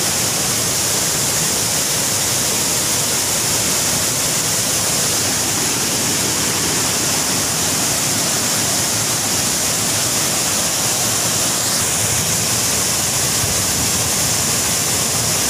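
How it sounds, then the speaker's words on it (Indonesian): Waterfall in a Kalimantan forest pouring heavily, a loud, dense, continuous roar of water heard up close, with no voices over it. "mantap sekali air terjun"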